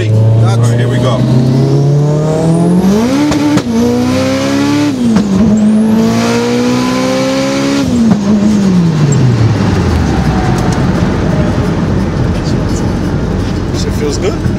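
A stock car engine is revved hard during a test for misfiring, rising and falling through several loud, close revs before dropping back to a rough idle rumble.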